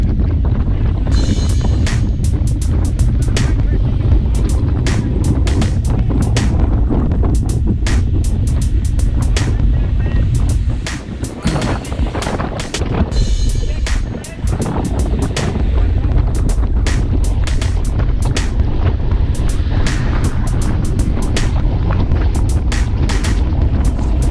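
Heavy wind roaring across the microphone during a group paceline cycling ride on an open road, a loud steady rush with gusty buffeting throughout and a brief lull near the middle, with no voices.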